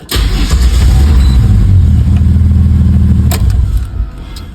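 A Barra-engined Patrol runs loudly nearby with a deep, steady roar that swells and holds for a few seconds, then drops back toward idle.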